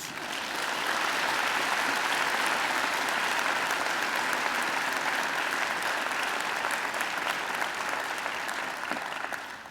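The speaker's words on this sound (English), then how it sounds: "I think she deserves another great round of applause." Sustained applause from a graduation ceremony audience, a dense, even wash of many hands clapping that holds steady for several seconds before tapering slightly at the end.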